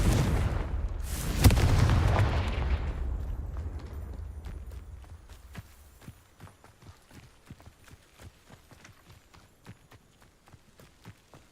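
A loud fiery blast from the Confringo spell in the PC game Hogwarts Legacy, a heavy booming burst that rumbles and fades over a few seconds, followed by a run of quieter, evenly spaced thuds like footsteps.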